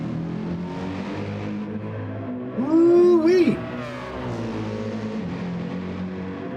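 Mazda race car braking hard and coming down a mountain course, engine note swooping up then dropping sharply, with a loud close burst in the middle under a steady background of other engines and commentary.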